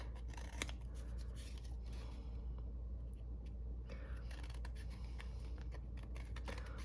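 Scissors trimming a window covering, giving a run of quick, close snipping and scratchy cuts over a low steady background hum, with no talking.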